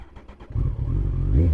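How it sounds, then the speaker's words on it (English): Motorcycle engine firing up: a few chugging cranks, then the engine catches and settles into a loud, steady idle, close by. "And the bike started up just fine."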